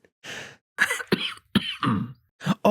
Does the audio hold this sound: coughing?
yes